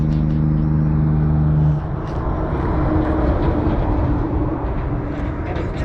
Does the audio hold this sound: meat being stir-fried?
no